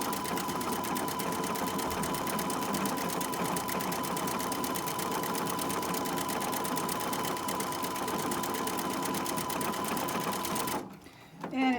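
Sewing machine running a decorative sequin stitch, a loud, fast, even mechanical chatter of needle strokes held steady for several seconds, then stopping abruptly near the end, leaving a brief quiet.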